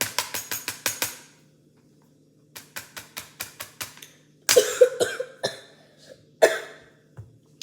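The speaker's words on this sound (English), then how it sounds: "just coughing a little bit" Close, fairly quiet coughing in repeated quick clusters of short hacks, separated by pauses of near silence.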